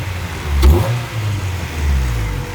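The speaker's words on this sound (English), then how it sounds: "you can tell it is not happy about the way it idles" A 1998 Honda Civic engine runs close by with a low, uneven rumble. A brief rev swells near the start and a second surge comes later. No one speaks.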